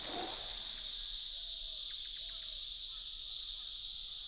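A loud, shrill, unbroken cicada buzz drones steadily throughout in an Indian jungle, with a few faint chirps and calls from other creatures underneath.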